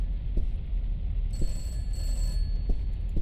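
A telephone rings in a horror video game, two electronic trilling bursts over a steady low ambient drone, fairly loud and close with a short gap between rings.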